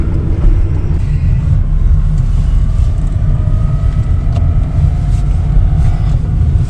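An electric Fiat 126P drives along with a loud, steady rumble of road and wind noise inside the cabin, the motor droning continuously as gears change smoothly with no grinding.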